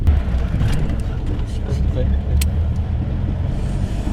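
Steady low engine rumble and road noise from inside a car on a hitchhiked ride in Dagestan, Russia, with faint voices and occasional soft knocks over the continuous drone.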